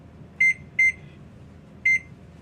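Three short, bright electronic beeps from a kitchen timer being set to eight minutes, the second coming quickly after the first and the third after a pause, clear and close over a quiet room.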